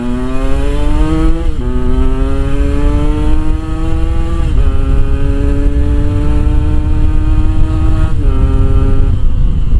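A Yamaha RX King two-stroke motorcycle on a Makassar street at midnight, revving hard at full throttle through several rising pulls with brief drops between gears, loud and close with no talk.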